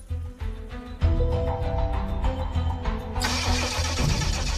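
A vintage Jaguar engine cranks and catches, a steady mechanical churn that rises into a louder, brighter running roar partway through, close and continuous.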